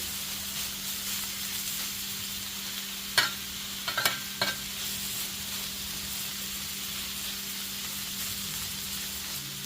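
Pulled pork for a cheesesteak sizzles on a hot griddle with a steady, close hiss, broken by a few brief scraping clatters from a spatula partway through.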